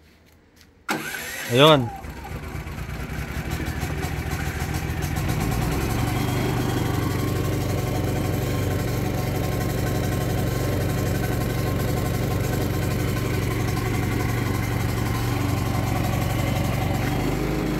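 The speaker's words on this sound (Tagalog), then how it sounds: "So, dapat matrigger yung ating generator na mabuhay ng kusa." A Philking PK800i generator starts on its own, with a short cranking whine and then a steady engine note settling into a constant mid-pitched idle hum, close and loud; a person speaks briefly at the start.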